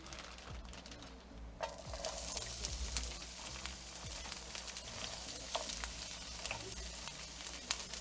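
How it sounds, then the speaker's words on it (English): Onions hitting a hot pan for fajitas give a steady, close sizzle with crackling pops throughout, no voices over it. "Add the onions."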